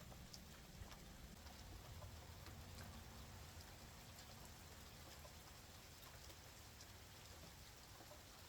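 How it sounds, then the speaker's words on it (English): Faint, steady hiss of rain falling continuously in the background, soft and even throughout with no voices. "Sorry if you can hear the rain and thunder in the background."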